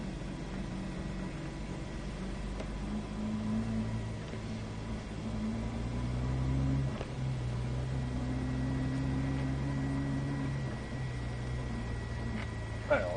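A 991-generation Porsche 911 GT3 moves slowly around Circuit Ladoux, heard from inside the cabin as a low, steady engine drone whose pitch shifts slightly as it creeps forward, with light rumble underneath.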